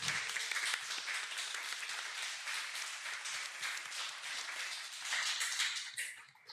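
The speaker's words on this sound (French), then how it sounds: "qu'on va applaudir, si vous pouvez applaudir aussi" Audience applause for a teacher at a conservatory concert event, a dense steady wash of many hands clapping throughout, swelling near the end before fading out, with no talk over it.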